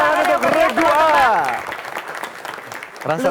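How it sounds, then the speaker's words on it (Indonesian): Studio audience at a televised Indonesian high-school quiz competition applauds for one team; a burst of clapping runs under a host's loud speaking voice, then fades to scattered claps and light background noise. "kita berikan tepuk tangan untuk Regu A."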